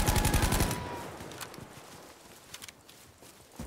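A loud burst of full-auto fire from a scoped gun in a video game cuts off abruptly after about half a second, followed by a few scattered distant shots and faint ambient clatter.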